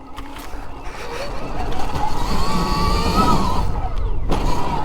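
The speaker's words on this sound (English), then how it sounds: "I got the bike in mode 2 right now, which is set to like 35 horsepower" Stark Varg electric dirt bike ridden in mode 2, set to about 35 horsepower, on forest trails: a steady rising electric whine with rough tyre and terrain noise, growing louder partway through and holding close to the microphone.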